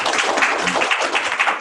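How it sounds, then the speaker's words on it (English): An audience gives a round of applause after a public library lecture, dense steady clapping from a crowd heard close and loud, with no talk over it. "Let's give a round of applause."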